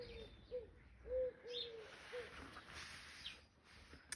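Small birds call faintly around a woodland garden bird table, a few short chirps and soft cooing notes scattered over a quiet outdoor background, with no talk.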